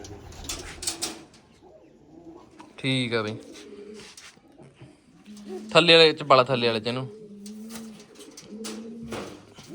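Pigeons kept as pet birds coo softly in low bubbling phrases, with a couple of louder warbling bursts, under frequent nearby talk from men.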